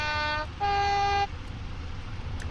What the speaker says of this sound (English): One last reminder of that puff horn.